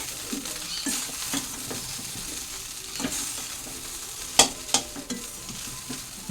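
Cooked rice stir-fried in a pan at home, a soft continuous sizzle with scraping stirs and a few sharper clinks of the spatula against the pan, no talking.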